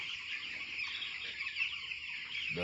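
Many young chicks in a poultry shed peep continuously in a dense, high-pitched chorus, close and steady throughout, with no talking.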